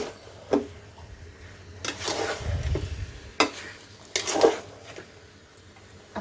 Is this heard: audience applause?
no